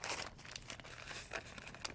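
An envelope of dry onion soup mix, for a cranberry chicken bake, is handled up close, giving continuous papery crinkling and rustling with a few sharper crackles.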